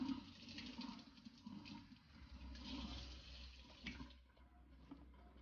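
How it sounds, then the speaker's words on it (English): Tap water runs over a red snapper fish being cleaned in a sink, a steady, soft, gushing flow that shifts in tone as the fish moves under the stream, with no talk. "you'll rinse as you clean it. I'm rinsing it now."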